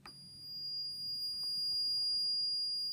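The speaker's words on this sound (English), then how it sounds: "Direct short on my ohm meter" A multimeter beeping on a direct short during repair of a 550 W Cooler Power PSU: one steady, unbroken electronic tone that holds for the whole stretch over faint background noise.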